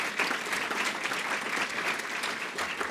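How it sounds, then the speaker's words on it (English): An audience applauds faculty presenters from a nursing school at a launch event, with a dense, continuous round of clapping heard from a distance at a fairly soft level. "let's give them a big round of applause and thank them so much."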